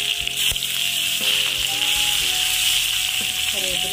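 Curry leaves and dried red chillies fry in hot coconut oil while chammanthi is made, giving a loud, continuous sizzle with faint stirring noises throughout.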